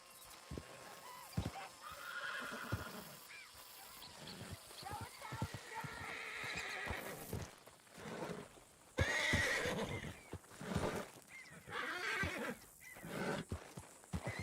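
A horse whinnies and snorts amid clip-clopping hooves and game sounds in Red Dead Redemption 2, with a person talking faintly at times.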